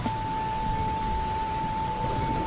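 Steady rain falls in a constant, even hiss with a faint thin tone running beneath it.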